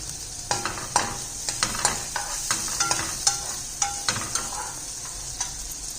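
Chopped onion frying in a pan for cheese macaroni: a continuous close sizzle with a series of sharp metallic scrapes and taps as a spoon stirs, no voices.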